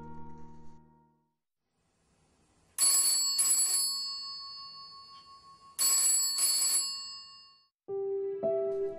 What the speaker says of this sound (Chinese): 上午9点37分，睡梦中的周锦瑜被电话吵醒